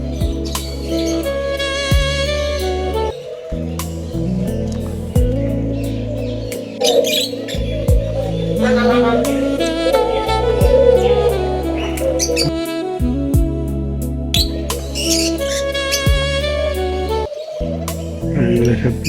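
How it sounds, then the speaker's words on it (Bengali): Birds chirp and call in a garden, bright repeated tweets and warbling phrases layered over a steady low hum, fairly close and lively throughout. "পাখির কিচিরমিচির শব্দটা আমাকে মুগ্ধ করছে।"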